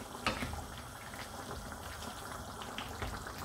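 Lamb chop stew with cabbage, apple and carrots boiling in a pot, a soft steady bubbling and simmer that stays faint and continuous throughout.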